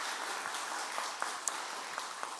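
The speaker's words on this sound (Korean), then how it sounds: "우리 큰 박수 한번 보내드리도록 하겠습니다" A church congregation at a Sunday service applauds a clarinet soloist, brief soft clapping from a room of people, somewhat distant and steady.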